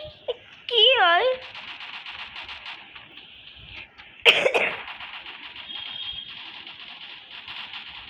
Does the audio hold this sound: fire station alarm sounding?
no